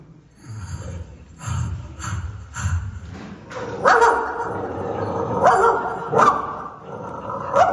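A voice imitating an angry dog, starting with low growls and snorts, then breaking into a run of loud, harsh barks with short pauses between them.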